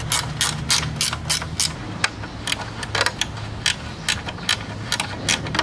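A ratchet wrench clicks steadily while loosening 10mm bolts on the fender of a Yamaha Sniper 150 motorcycle, giving loud, close, rapid ratcheting bursts with short pauses and no talking.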